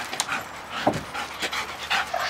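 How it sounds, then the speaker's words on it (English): A two-year-old working dog pants close by in quick, soft, breathy bursts, fairly faint and steady with no talking. "this is another one of my little working dogs that I'm sort of toying with"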